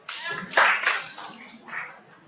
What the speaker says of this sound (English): If you can hear me, clap once.